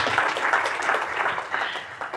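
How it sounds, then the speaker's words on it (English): Conference audience applauding a panel, dense close clapping with a few cheers mixed in for about two seconds. "let's give our panel a round of applause."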